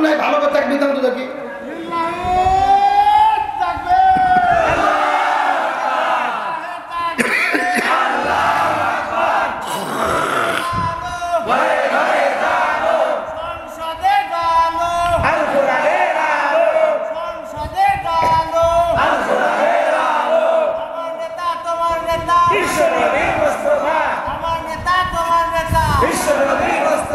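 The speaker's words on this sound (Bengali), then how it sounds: "ভালো করে তাকবীর দাও তো দেখি" A crowd at an outdoor religious sermon roars a takbir chant in repeated loud waves, one voice leading and the mass of voices answering in a steady call-and-response rhythm.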